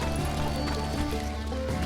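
A horse at the stables in the Wild West shooter Call of Juarez: Gunslinger gives a short neigh over a dense layer of game sound and music, with hooves faintly in the mix.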